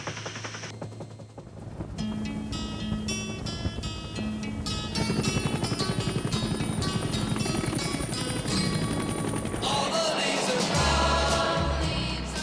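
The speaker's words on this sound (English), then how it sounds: "That's a Huey turning" A Vietnam-era Huey helicopter turns in flight, its rotor chopping rapidly and steadily with a loud whining engine. The sound is close and continuous and grows slightly denser as it banks.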